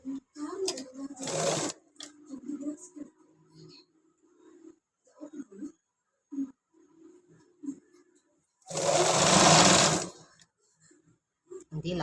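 A sewing machine stitching elastic into a child's 3-4 year tracksuit runs in two bursts, a short one early and a longer steady whir later, with someone talking quietly between them.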